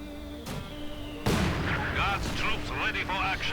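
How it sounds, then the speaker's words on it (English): Machine gun and Soviet mortar fire in a real-time strategy game battle, a muffled thump followed by a heavy loud blast and crackling bursts, with a commentator talking over the action. "Intense machine gun fire, and there we go, Soviet mortar fire."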